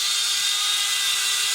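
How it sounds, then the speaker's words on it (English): A small Snap-on drill spins a bronze bore brush inside rifle case necks, a steady high whirring hum that stays loud and constant. "I take this bronze bore brush that's chucked up in this little snap-on drill"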